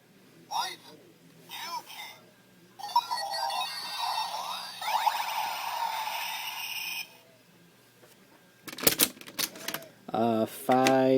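Kamen Rider W Sound GaiaMemory toy playing its Kamen Rider Ryuki effect: short electronic bursts, clicks and a synthetic announcing voice arrive in separate loud spurts with quiet gaps between them.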